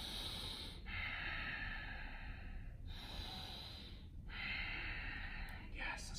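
Slow, deep breaths through the nose while holding a crouching tree yoga pose, three long airy inhale and exhale cycles close to the microphone, separated by short pauses.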